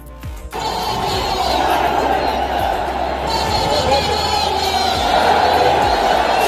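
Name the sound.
crowd at Chandrashekhar Azad rally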